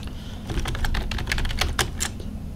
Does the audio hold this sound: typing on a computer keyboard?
yes